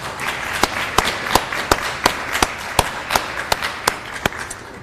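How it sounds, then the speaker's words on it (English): Sparse, scattered hand claps from a small audience at a youth program opening ceremony, a dozen or so separate sharp claps spread unevenly with no steady rhythm. "if you would give a round of applause to all the guest speakers that were here today"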